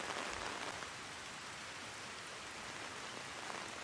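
Steady rain pours down in an anime scene, a dense, continuous hiss that stays even and fairly loud throughout, with no voices.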